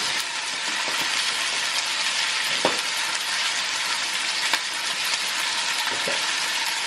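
Hamburger patties fry in a pan at home with a steady, dense sizzle that holds evenly throughout, broken only by a few faint pops and ticks, close and fairly loud with no talk.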